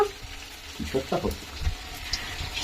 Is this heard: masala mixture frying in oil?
yes